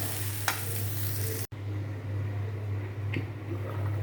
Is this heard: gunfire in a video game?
no